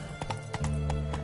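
Roach the horse gallops in The Witcher 3, steady rhythmic hoofbeats clip-clopping close and clear over a low droning background hum.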